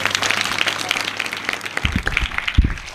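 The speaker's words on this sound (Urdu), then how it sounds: "زوردار تالیاں پھاکرو کے لیے، زوردار زوردار" A church congregation at a Pakistani Christian service claps loudly and unevenly, with some scattered voices and a few heavier low thumps near the end.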